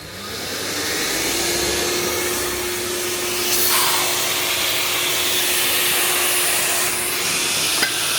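An old Nilfisk vacuum cleaner runs steadily and close by, a continuous broadband whoosh with a steady motor whine that lasts the whole stretch with no voices.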